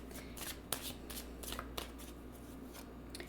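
Tarot cards handled and shuffled in a quiet room, with a series of soft riffling bursts and sharper card snaps, close up and alone, with no talking.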